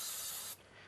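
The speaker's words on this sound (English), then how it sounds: "Spray glue them all together because I'm lazy." Spray glue hisses from an aerosol can onto cut die pieces in one steady, close burst lasting about half a second before cutting off.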